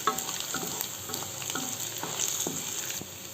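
Garlic, ginger-garlic paste and finely chopped green chillies fry over a low flame, a steady soft sizzle with occasional light spoon stirs, close and continuous with no talking.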